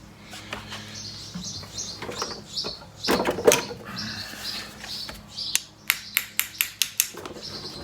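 Metal taps on a Norton Commando engine part being knocked loose, a few scattered strikes and then a quick run of six or seven sharp, evenly spaced taps near the end, close and clear without talk.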